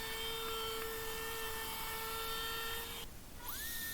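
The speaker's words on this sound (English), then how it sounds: "I clamped them together with a 3/4 inch spacer to give my router a wide surface to run on, and then I trimmed the first 2 edges smooth." A router trims the edges of glued ash shelf stock, a steady high whine that carries on, then cuts off near the end, close and continuous.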